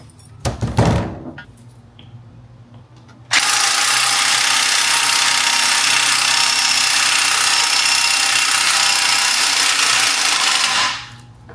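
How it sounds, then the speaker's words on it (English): Spring compressors are worked on a BMW X5M Dinan lowering spring, with a sharp metallic clank first, then a loud, continuous whirring ratchet for about eight seconds that stops abruptly. "we're gonna have to recompress the spring here with the spring compressors"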